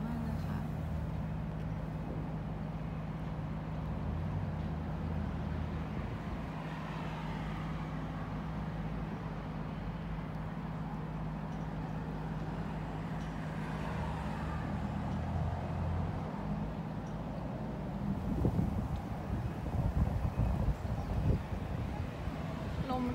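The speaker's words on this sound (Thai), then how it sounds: "ลมแรงมากเลยค่ะวันนี้" Strong wind on a day of cherry blossom viewing in Japan, a steady broad rushing roar that persists throughout, with low rumble like passing traffic and gusts swelling toward the end.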